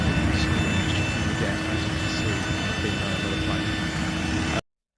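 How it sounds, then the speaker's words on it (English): Aeroplane engines drone steadily from inside the passenger cabin during travel, a constant broadband roar with faint tonal hums that continues evenly before cutting off abruptly at the end. "you can hear basically nothing but the engines of the aeroplane there"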